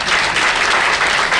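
A live audience claps steadily throughout, a dense, loud wash of applause for contestants at a competition stage event.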